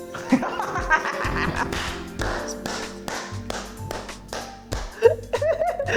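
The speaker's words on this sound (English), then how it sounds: "my clap was so loud, I didn't hear you" One person claps their hands several times in a loud, sharp, uneven series, with taps, thuds and bits of laughter and voices around them.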